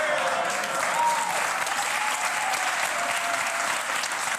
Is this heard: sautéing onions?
no